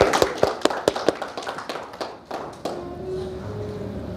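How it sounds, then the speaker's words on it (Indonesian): Brief sharp clapping at an indoor book-tour event at a hotel, a few loud claps then a thinner scatter that fades out, followed by a quieter room tone. "Tepuk tangan dulu dong sekali lagi."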